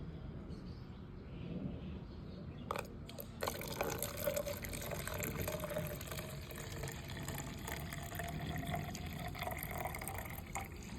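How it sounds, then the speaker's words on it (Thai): Alum solution tinted with food colouring pours steadily into a glass for a crystal-growing science experiment, making a continuous close trickle and splash that lasts about eleven seconds without speech. "นำสารส้มเทลงไปในแก้วครับ"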